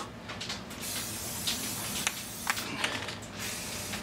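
Aerosol spray paint hissing steadily onto a small bracket for a 1992 Yamaha Enduro outboard motor, a continuous close hiss with a few brief bursts and no talking.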